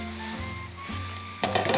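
Tofu pan-fries in a little oil with a low, steady sizzle under a faint tonal hum, then a brief louder crackle of spattering near the end.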